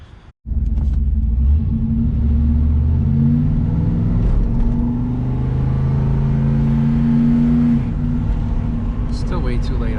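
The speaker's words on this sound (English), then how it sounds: "The idle is hanging up very high." A 1984 Camaro Z28 V8 idling too high after a transmission TV cable adjustment, a steady loud rumbling drone that starts abruptly and holds for the whole stretch with faint tonal variation.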